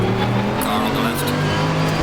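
A Mercedes AMG GT3 race car roars past in a racing video game, a loud sustained engine drone with shifting tones and brief tire noise, close and continuous.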